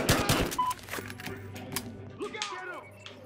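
Rapid bursts of gunfire crackle in a shootout in the video game Battlefield Hardline, strongest at the start and then scattered, with shouting voices mixed in.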